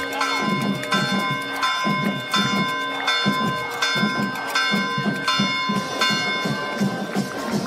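A large bell rings repeatedly at a high school football game, steady ringing strokes about every second, loud and resonant over faint crowd noise.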